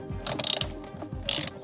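Ratchet on a 10 mm socket loosening bolts on a 2013 BMW 335, two quick bursts of close, crisp clicking separated by a short pause, with no talking.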